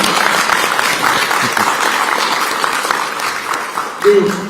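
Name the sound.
applause for candidate Jeon Jae-soo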